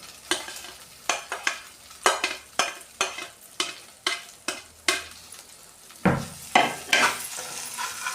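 Lightly fried okra being tossed and stirred with spices in a hot pan, giving repeated rhythmic scraping and sizzling strokes about every half second, close and clear with no talking.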